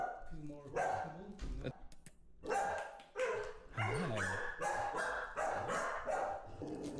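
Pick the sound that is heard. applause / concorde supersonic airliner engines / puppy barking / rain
puppy barking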